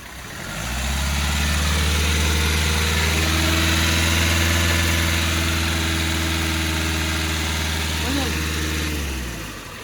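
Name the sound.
Hyundai Creta 1.4 diesel engine idling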